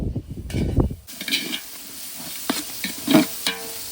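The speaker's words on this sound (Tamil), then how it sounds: "சார் பீரோ ரம்மு ஊற்றி மிக்ஸ் பண்ண மசாலாவை கலந்துக்கலாம்." Masala mixed with beer and rum being stirred for an egg curry, giving soft scraping and sloshing sounds with a sizzle-like hiss, close and fairly quiet, with no talk.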